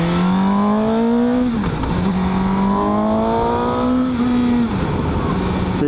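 A 2018 Suzuki GSX-S750 motorcycle accelerates hard with a loud, throaty airbox intake roar. Steady engine pitch climbs through the gears, with two brief dips at the shifts, and it sounds close and continuous throughout.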